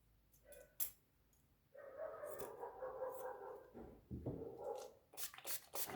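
Several neighbourhood dogs bark in the morning, a sustained run of overlapping barks and yelps at moderate distance, with a few sharp knocks and rustles nearby.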